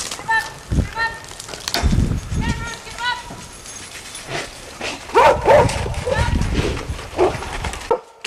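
Dogs bark in sharp repeated bursts while chasing a bear up a tree during bear aversion conditioning, close and loud, mixed with people shouting and rustling movement outdoors.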